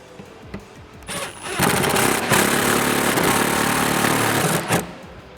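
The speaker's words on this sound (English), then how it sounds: "Now you wanna grab your T30 Torx bit and tighten these down." An impact gun on its lowest setting with a T30 Torx bit tightens plastic fasteners on a Roush cold air intake for a 2018-2019 Ford F150 2.7L EcoBoost, giving a loud, close, sustained buzzing run after brief handling noises.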